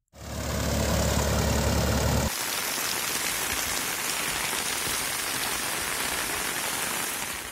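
Heavy unseasonal rain pours steadily over a flooded main road in Veeraghattam, Srikakulam district, Andhra Pradesh, making a dense, unbroken hiss. A low engine-like hum sits under it for the first couple of seconds.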